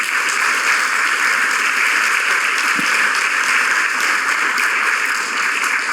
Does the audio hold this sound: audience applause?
yes